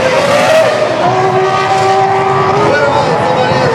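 A 2011 Marussia Virgin Formula 1 race car engine running with a shifting, high, whining drone, heard at a Sochi demonstration run while someone comments in Russian over it.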